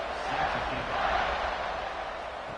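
A stadium crowd in a College Football 26 game roars steadily as a kickoff approaches, a broad, continuous wash of cheering that swells slightly, heard from a distance without distinct voices.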